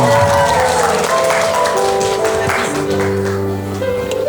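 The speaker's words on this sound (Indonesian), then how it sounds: "Yang setuju Sylvie cantik mana tepuk tangannya dong." Applause at a gathering about Sylvie, a dense broadband patter of clapping with music or tones mixed in, steady and fairly loud throughout.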